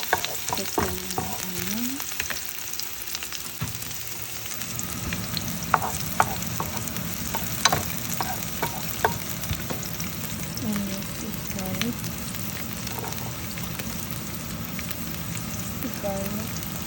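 Garlic sizzling and frying in a pan at the start of cooking adobong sitaw, a steady crackling hiss throughout with occasional stirring clinks and brief talk early on.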